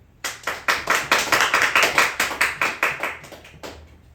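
Audience applause and cheering at a Korean reading of The Pilgrim's Progress after a chapter title is read aloud, heard as a steady run of about fifteen rhythmic clapping bursts, loud and close, with no talk.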